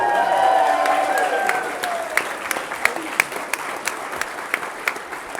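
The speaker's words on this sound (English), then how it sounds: "You can cheer." Wedding guests at a Jewish ceremony break into loud, sustained applause and cheering right after the couple is declared married, the clapping thinning out into scattered individual claps toward the end.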